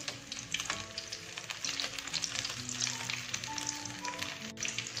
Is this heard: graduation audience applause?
no